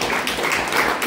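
An audience at a public political meeting clapping, a dense, even patter of many hands close and fairly loud for a short burst.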